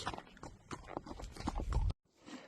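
A horse walks along a trail, its hooves clip-clopping in a steady close rhythm, heard alone before a brief abrupt cut.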